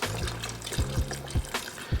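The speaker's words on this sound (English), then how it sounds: "in goes the beef broth" Beef broth pours into a pot with a close, gurgling splash, broken by several distinct glugs at an uneven rhythm.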